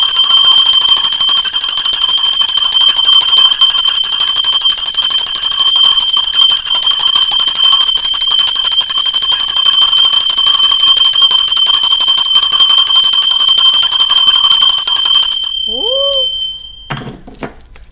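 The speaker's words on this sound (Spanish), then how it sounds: "campana que no para de tocar" A bell rung during a tarot reading rings continuously and loudly with a bright sustained metallic tone, then cuts off near the end leaving a faint brief sound.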